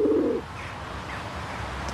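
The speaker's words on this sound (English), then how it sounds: "That pigeon's stalking me." A pigeon gives a short, close coo at the start, followed by quieter outdoor ambience and faint chirps, with no talking.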